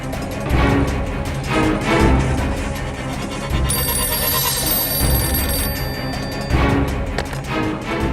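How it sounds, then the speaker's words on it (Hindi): A telephone bell rings loudly and insistently in a domestic scene, sounding in repeated bursts with a bright ringtone tone layered through the middle, up close with no talk. "वो टेलीफोन पे उसे फोन लगा रही है।"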